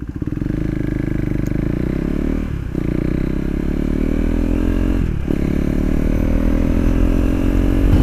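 A KTM 390 Duke motorcycle with an Akrapovic titanium slip-on exhaust idles loudly and steadily up close, a deep throaty rumble with a couple of brief blips partway through.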